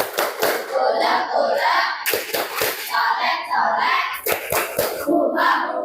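A classroom of children performs the 'tepuk sambal' clapping game as an ice breaker, loud rhythmic bursts of unison hand claps in patterned groups, mixed with young voices chanting along.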